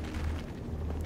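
A video game explosion in Battlefield Hardline, a short, dull, rumbling boom with low heavy energy that holds for about a second with no voices.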